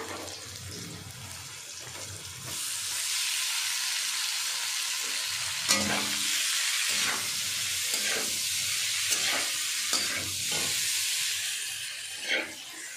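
Fish pieces sizzling in hot oil with browned chopped onions in a pan, a steady frying hiss with occasional sharper crackles and stirring clinks.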